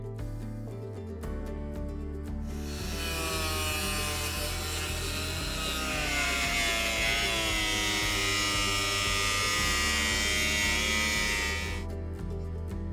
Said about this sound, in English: cut the sheet to the width with the angle grinder or the jigsaw